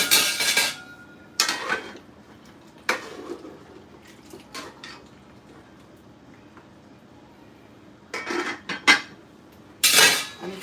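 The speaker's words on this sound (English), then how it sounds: "I'm going to go ahead and give it a stir" A spoon stirs oxtail in a pot, giving scattered metallic clinks and scrapes in short bursts with quiet gaps between them.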